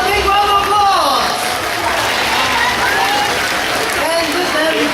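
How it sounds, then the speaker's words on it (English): Audience at a bird park's high flyers show in Singapore applauds, steady crowd clapping running throughout, mixed with a voice and bird calls over the top. "Give them a big round of applause."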